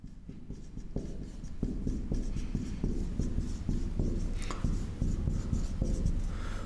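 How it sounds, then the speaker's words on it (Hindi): Steady scratchy writing on a board during a physics lecture on rotation and pure rolling, with continuous strokes and small taps, close and fairly loud, with no talking. "तो इधर लिख देता हूं"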